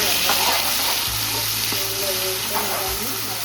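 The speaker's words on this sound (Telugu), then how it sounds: "ఇవన్నీ చక్కగా వేగాలండి." Whole spices sizzle steadily in hot oil for bagara rice, a loud continuous frying hiss with a few low clunks from a stirring spoon against the pan, no talking.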